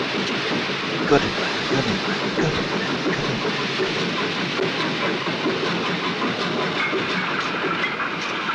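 A train rolls past with a continuous rumble and rhythmic clatter of wheels over rail joints, loud and steady throughout, with voices speaking over it.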